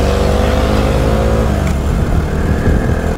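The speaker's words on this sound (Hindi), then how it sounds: "और ये देखो बस छोटा सा घाट चढ़ते हुए ओवरटेक कर लेते हैं हम लोग।" A vehicle engine drones loudly while overtaking on a short climb up a mountain ghat road during the monsoon, a steady close revving hum with shifting pitch and road and wind noise, no talk.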